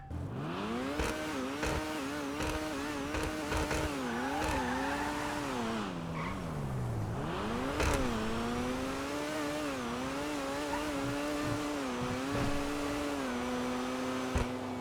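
A GTA Online Overflod Entity XXR supercar engine revs continuously, climbing and dropping in pitch as it accelerates and shifts, loud and close with occasional tire squeal and no talking.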